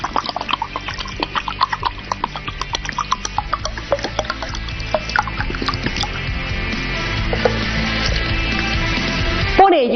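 One litre of water pours into a cubic decimetre container in a classroom-style demonstration. The pour is steady and close, with splashing that becomes a smoother filling sound, and a clunk at the end.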